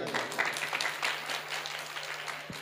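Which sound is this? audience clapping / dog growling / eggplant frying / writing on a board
audience clapping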